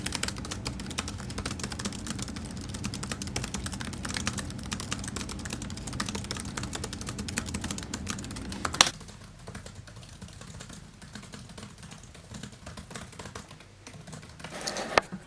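Rapid, continuous typing on a computer keyboard, close and even, with a brief louder knock partway through and quieter keystrokes afterward.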